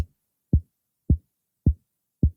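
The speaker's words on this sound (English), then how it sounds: "And this is a CR78 kick." Four evenly spaced Roland CR-78 kick drum hits from the 1970s drum machine, low-passed so only a dull, deep thump remains, each short and punchy with silence between, alone and fairly loud.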